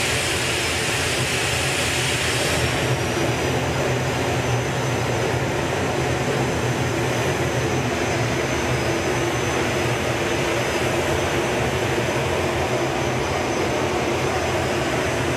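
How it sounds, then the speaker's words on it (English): A Rolls-Royce Viper 535 jet engine mounted on the back of a 1958 VW pickup at a drag racing event roars as a continuous loud, broad whine and rush for the whole stretch. "he's put a Rolls-Royce Viper 535 jet engine on the back of it"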